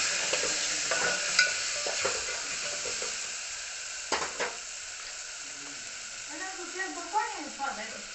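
Asafoetida and crushed fenugreek hit hot oil with a steady close sizzle, broken by a few scraping stirs of a spoon; near the end a voice talks briefly over the frying.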